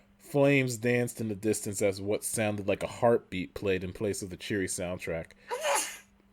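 A single short sneeze bursts out near the end, following steady close narration of a spooky story and briefly interrupting the reading.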